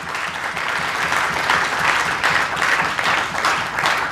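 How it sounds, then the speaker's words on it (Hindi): A crowd at a Hindi-language speech gives full, sustained applause, dense clapping holding steady for several seconds with no voices over it. "तालियां बजाइए भरपूर तरीके से"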